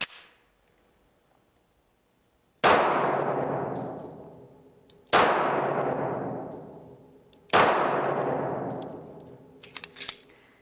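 Three loud single shots from a Browning Hi-Power 9mm semi-automatic handgun at an outdoor range, spaced a few seconds apart, each with a sharp crack and a long fading echo.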